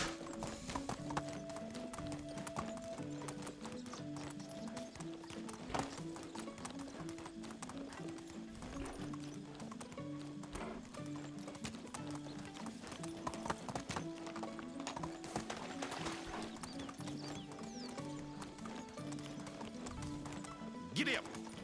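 In the video game Medieval Dynasty, a horse gallops with a steady rhythmic clip-clop of hooves, loud and continuous, with a whinny near the start and faint game sounds beneath.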